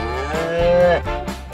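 A cow gives one loud, close, drawn-out moo that rises and then falls, with no talk around it.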